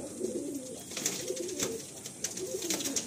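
A female Madrasi pigeon coos in soft, low, rolling phrases, repeated a few times at close range against faint background noise.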